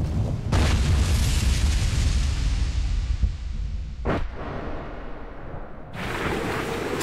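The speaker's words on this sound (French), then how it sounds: "Au commencement était le Big Bang." A huge cinematic boom for a Big Bang in a TV trailer: a loud deep blast rolls and rumbles for several seconds, followed by a sharp whooshing hit and another swell of roaring noise.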